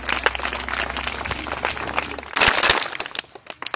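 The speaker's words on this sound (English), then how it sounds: "so clap for him." Schoolchildren clapping together at a primary school, a dense burst of crackling applause swelling loudly near the end and then thinning into scattered claps.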